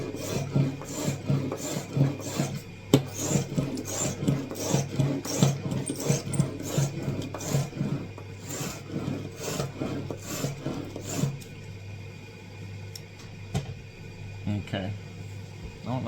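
A metal file rasps in quick, regular strokes across a 125 grain Cutthroat single bevel broadhead, close and scratchy, then slows into a few sparse scrapes; no words are spoken.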